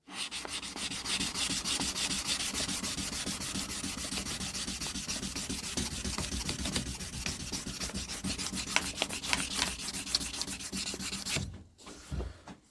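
A knife handle on a drop point hunter is sanded by hand with 400 grit sandpaper, producing a steady, close, rhythmic rasping scrub that stops abruptly near the end.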